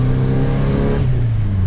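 A 1990 Volkswagen Gol GTS with the AP engine revs loudly close by, a steady throaty drone that rises slightly and then settles to a held pitch.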